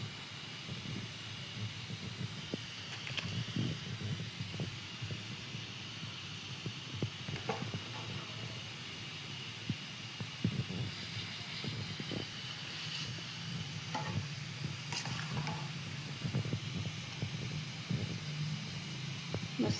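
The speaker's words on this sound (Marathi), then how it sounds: "मस्त असं आपण त्यात राईस टाकत आहोत आणि छान असं हलवून घेऊया" Rice is poured into a pot and stirred for jackfruit biryani, giving a steady low sizzle and hiss broken by soft scraping and clinking of the spoon against the pot, close and continuous.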